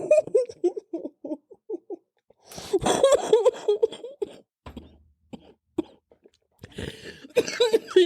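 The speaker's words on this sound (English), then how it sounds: "I keep having these fucked up coughing fits" Several bursts of harsh coughing break through quiet stretches, loud and close, with short pauses between fits and a voice faintly around them.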